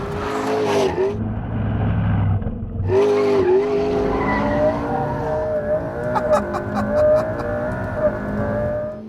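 A McLaren P1 plug-in hybrid supercar driven hard around the Top Gear test track, with engine revving and surging, brief tire squeal and skidding, and a fast passing roar, loud and close.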